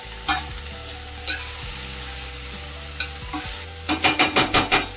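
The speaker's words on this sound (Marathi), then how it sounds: "आणि व्यवस्थित मिक्स करायचं." A spoon scrapes and stirs fenugreek leaves and peas in a pan over a soft steady sizzle, with a few spaced strokes at first and then a quick run of rhythmic scrapes near the end; no voices.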